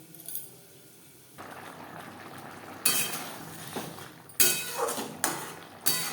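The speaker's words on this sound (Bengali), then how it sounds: "তিন 4 মিনিট গ্রেভি বেশ ভালো করে ফুটিয়ে নেব।" Vegetarian coconut and snake gourd gravy bubbles quietly in a pan, broken by several sharp metallic clinks and scrapes of a spoon against the pan.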